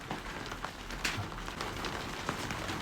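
Rain patters steadily on a roof, a faint, even hiss of drops with occasional slightly sharper taps, continuous and without voices.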